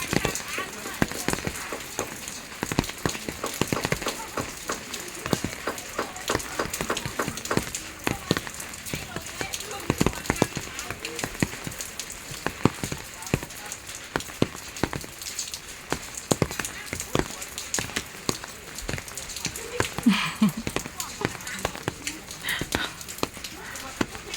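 Rain patters steadily on a surface with irregular drips and taps, fairly quiet, with faint sounds in the background.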